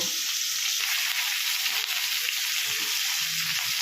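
Five bata fish frying in oil in a pan, a continuous bright sizzle and crackle that holds steady throughout without talk.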